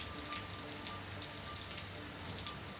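Steady rain falling on a surface, a dense, even patter of drops that holds at the same level throughout with no other sounds.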